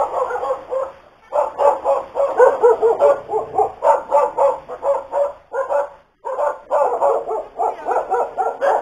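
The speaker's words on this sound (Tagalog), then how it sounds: "Ito may aso." A dog at a residential address barks and yips in rapid repeated bursts, fairly close and loud, with brief pauses between volleys and no one speaking.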